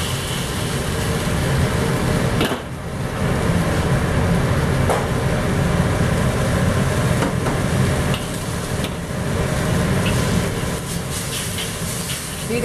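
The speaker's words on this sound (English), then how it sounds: "So I'm going to cook the creamy sweet corn first." Creamed sweet corn reheating in a wok gives a continuous loud sizzling hiss, with occasional scraping stir strokes across the pan and no one talking.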